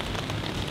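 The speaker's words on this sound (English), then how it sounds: "As you can hear, the rain is still constant." Steady heavy rain on a wet Scottish hiking trail, a dense constant hiss filling the air with no letup.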